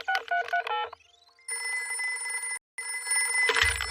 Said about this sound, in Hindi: सुनिए, हम दादा और दादी को फोन करते हैं।